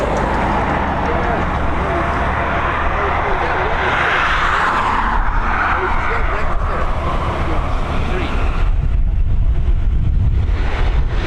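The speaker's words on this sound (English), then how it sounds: "The wind's starting to pick up here now." Gusting wind at Dublin Airport buffeting the microphone, a loud continuous rumbling roar that surges and eases, with traffic-like noise mixed in throughout.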